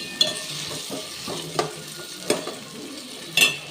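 Tomatoes and cashews frying in a pan while being stirred, with a steady low sizzle and a handful of sharp utensil scrapes and clacks at irregular intervals, close up and with no talking.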